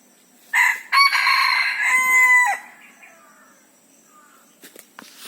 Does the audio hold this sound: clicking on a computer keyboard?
no